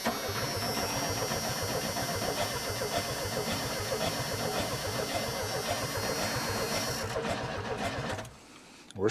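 A junkyard Chevrolet S10 pickup engine cranks over steadily under the starter, a loud, rapid rhythmic chugging that runs for about eight seconds without catching, then cuts off abruptly.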